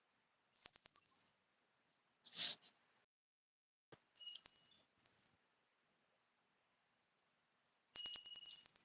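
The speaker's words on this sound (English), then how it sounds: "It's the Tibetan prayer bell, meditation bell." A Tibetan prayer bell, used as a meditation bell, gives three bright, high rings spaced several seconds apart, each fading quickly into silence, with a soft brushing sound between the first two.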